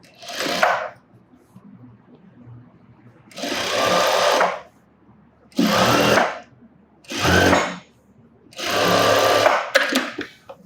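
Sewing machine stitching fabric in a V shape, running in five loud bursts of rapid mechanical whirring separated by short pauses, close and clear.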